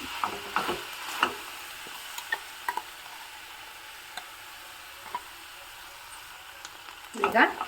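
A sizzling mixture of brinjal and ground spice powder is stirred in a pan, with soft scraping taps scattered through a faint frying hiss. A louder burst of stirring comes near the end.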